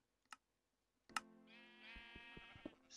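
Sheep bleat in a video game, a couple of short nasal bleats followed by a louder, drawn-out bleat sustained for over a second against quiet game background sounds and a few clicks.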